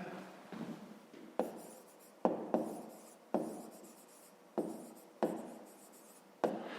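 Chalk or marker writing on a board while working a grade 5 math problem about distance a car travelled: a run of short, scratchy strokes in bursts, close and fairly loud, with no talking.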